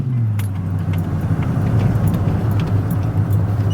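Lifted Chevrolet Silverado pickup with a 5.3L V8 and freshly swapped cam driving along, a steady close engine and road rumble with a low drone throughout, no talking.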